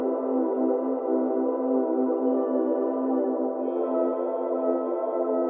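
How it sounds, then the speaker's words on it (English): Harmony pad sample from Splice, a sustained synth chord with rich layered tones holding steadily and evenly throughout, clear and fairly loud with no voices. "Nice little harmony pad sound."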